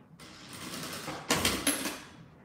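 A sewing machine stitches down layers of a squeeze pouch in a close mechanical whir with a quick rattling rhythm, running in two short bursts, the second louder.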